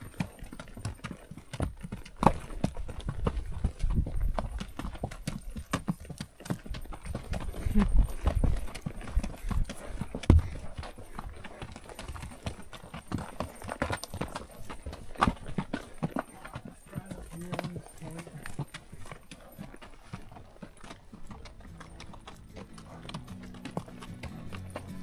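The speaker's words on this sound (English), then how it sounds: "Neither have shoes on right now, and their hooves naturally grip in this slick rock country" Unshod mule hooves clip-clop over slick rock in canyon country, an uneven walking rhythm of dull knocks heard fairly close amid outdoor rustle and faint background noise.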